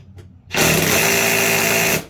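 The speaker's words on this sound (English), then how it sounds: "So now I swapped over to my little gun. I got a 1/2 inch in there." A small impact gun fitted with a 1/2 inch socket on the spindle of a Cub Cadet Z Force S 48 mower deck gives one loud, steady buzzing burst of about a second and a half, close up.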